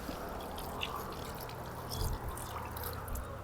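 Tap water runs steadily during wudu foot washing, a constant broadband splashing stream with small drips and splatters, close and continuous.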